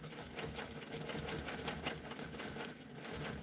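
Sewing machine stitching around an applique for quilting, a quiet continuous mechanical whir with a fast rapid needle rhythm throughout, no speech.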